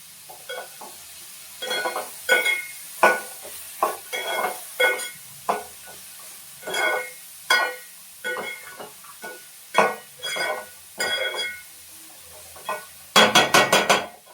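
Ingredients for kathambam rice sautéing in a pan, with repeated bursts of stirring and scraping and a light sizzle in an irregular rhythm, ending in a brief run of metallic clinks.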